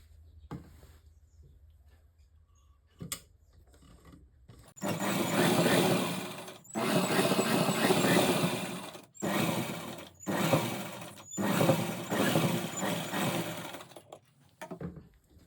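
A domestic sewing machine runs a double line of stitching along a palazzo pant in several loud, steady bursts separated by short pauses, with near silence before the stitching starts.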